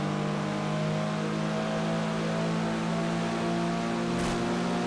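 A car overtakes in Test Drive Unlimited 2 with a steady loud engine hum and road rush held at constant pitch, and a brief sharp click near the end.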